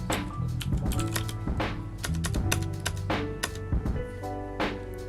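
Someone types on a computer keyboard, with rapid, irregular key clicks that sound close and continuous throughout.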